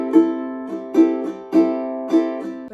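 Ukulele strummed in the island pattern with every stroke at the same volume, close and clean, a steady repeating cycle of down, up and muted ghost strokes with no voice.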